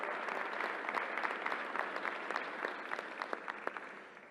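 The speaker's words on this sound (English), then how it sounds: "Let's give a round of applause to the team who made this work." Steady applause from an audience at a New York governor's news conference, dense and sustained at an even level, with individual claps standing out and no voices over it.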